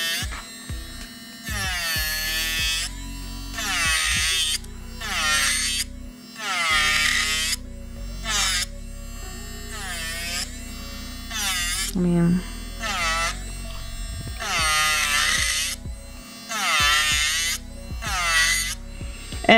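A small Kredioo electric nail drill handpiece whirs at high speed with no dust collector running, its whine rising and falling in pitch as the bit is applied, close and loud, while a person talks over it.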